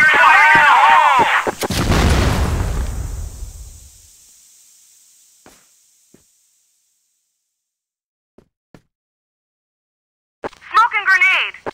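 A video game grenade goes off with a loud, sharp blast at close range. The boom decays into a long hiss and rumble that fades to near silence, with a voice line before it and another after.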